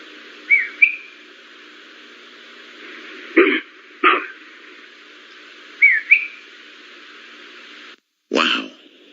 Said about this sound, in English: It was a whistle.